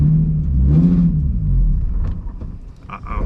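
A Nissan 350Z swapped to a VQ35HR engine on old dry-rotted tires revs in a loud, close, low rumble that rises and holds before easing off. It sounds like the wheels are spinning.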